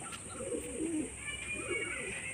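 A Madras pigeon from an old breeding line, held in the hand, gives two low, rolling coos close by, each lasting about half a second, with a faint steady hiss behind them.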